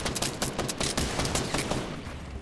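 Rapid gunfire in a Fortnite duos match, a dense, loud burst of repeated shots fired in quick succession that carries on through the whole moment.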